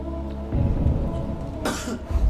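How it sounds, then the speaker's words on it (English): A single sharp cough bursts out partway through, set against a low steady background hum. "would signal correct answers with a cough"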